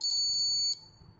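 A multimeter's continuity beeper sounds as its probes test the contacts of a limit switch: a few short high-pitched beeps in quick succession followed by one longer steady tone that cuts off, with no voices.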